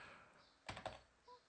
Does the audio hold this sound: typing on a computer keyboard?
yes